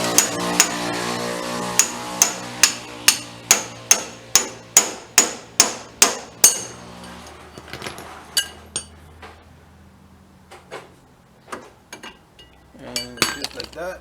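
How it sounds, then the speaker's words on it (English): A hammer strikes a fork tool wedged on a Jeep Liberty's front upper control arm: a quick run of sharp, ringing metallic blows in steady rhythm, then slower scattered hits, close and loud, with no talk. "hit it, the hammer"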